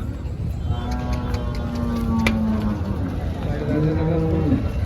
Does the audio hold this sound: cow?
yes